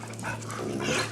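Puppies let out a short burst of yips and barks with some whimpering, close and moderately loud over a low steady hum, with no talking.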